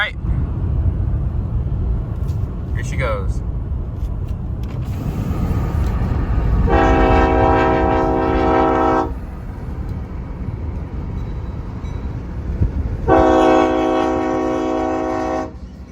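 A CSX L235 freight train passing a grade crossing: a heavy rumble of rolling cars under wind and road noise, with two long, loud multi-tone horn blasts separated by a few seconds; a person talks briefly early on.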